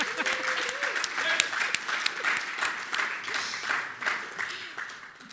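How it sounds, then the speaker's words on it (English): Audience applause after a public lecture on law in Africa, steady dense clapping filling the hall for several seconds with a few voices faintly mixed in. "Anthony, Asante, Jonathan, and Jennifer with a round of applause."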